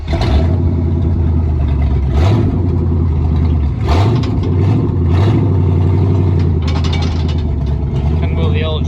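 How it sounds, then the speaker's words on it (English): A rusty old Jeep J20 pickup truck's engine runs loud and close, a deep steady rumble with slight revving as it moves off. "Gonna move the old J20 out of the way so we can start moving some cars around."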